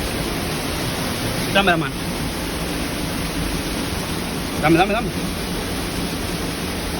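The Río del Congo in Salamanca, Santiago, flows with a steady broadband rush, while a person briefly speaks twice over it.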